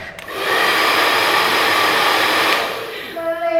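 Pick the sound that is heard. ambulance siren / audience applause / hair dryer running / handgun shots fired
hair dryer running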